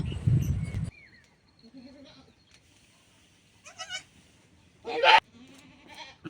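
Young goat kids bleat in short, separate cries, one loud near call and a few softer ones, with quiet gaps between them.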